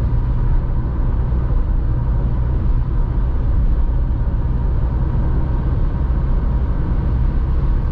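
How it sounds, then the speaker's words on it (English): Steady, loud broadband road and wind roar inside a 2023 Dacia Jogger (1.0 TCe, 110 HP, six-speed) cruising at about 130 km/h at night, with heavy low rumble and wind rush from the A-pillar and side mirrors, continuous with no talk. "There's so much noise coming from the A-pillar."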